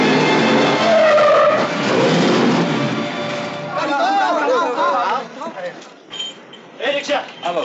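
Car tyres skid and screech in an old 1953 Hindi film scene where a vehicle hits a woman, a loud screech giving way to crowd chatter and shouting voices.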